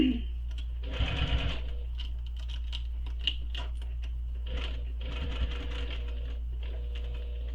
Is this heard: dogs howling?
no